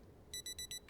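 A wristwatch alarm in the video game Project Zomboid beeps four times in quick, evenly spaced bursts, a thin, high electronic chirp that stands out clearly against a faint background.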